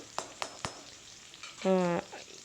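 Five green chillies sauté in a pan with capsicum for an egg poriyal, a soft sizzle broken by a few sharp stirring taps and a short tonal whine near the end.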